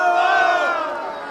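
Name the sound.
crowd cheering acclamations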